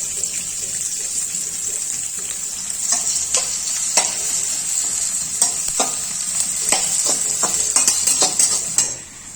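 Onions fry with green chilli in a pan for an Odia ridge gourd and poppy seed dish, giving a continuous loud sizzle close by. A spatula scrapes and stirs through it in repeated strokes, with no talk.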